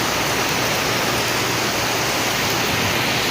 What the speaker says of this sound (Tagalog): Sound sa ulan.